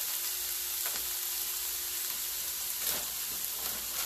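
Marinated chopped steak pieces drop into a hot pan of ginger and garlic and sizzle steadily. The frying hiss stays close and even throughout, with a few soft stirring clicks and no voices.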